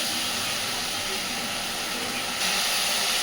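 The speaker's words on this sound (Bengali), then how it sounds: "এইবার গ্যাসের ফ্লেমটাকে মিডিয়ামে রেখে মশলা থেকে তেল ছাড়া পর্যন্ত এইভাবে মশলাটাকে একটু কষে নেব" Spice paste sizzling in oil in a pan over a medium gas flame, a steady close frying hiss that continues without a break and brightens slightly near the end.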